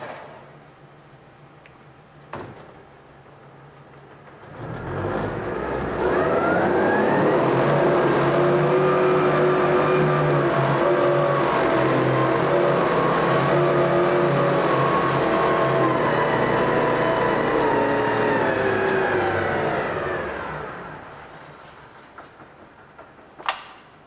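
A 2003 Yamaha F50 four-stroke outboard boat motor with a 20-inch shaft and remote controls starts up, settles into a steady loud idle for about fifteen seconds, then winds down and stops.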